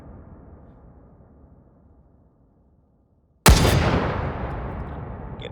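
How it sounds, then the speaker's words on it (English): A single sharp suppressed gunshot cracks out at a shooting range in the VR game H3VR, breaking near-silence with a loud, abrupt report followed by a long, fading tail. "Let's squeeze off some shots."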